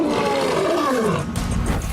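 A lion roar: one loud, drawn-out roar that sweeps downward in pitch over about two seconds, close and alone with no talking.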